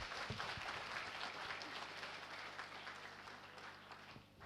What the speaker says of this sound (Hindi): मैं चाहती हूँ कि एक बार ज़ोरदार तालियों से हमारे इन होनहार तलबा का इस्तकबाल किया जाए।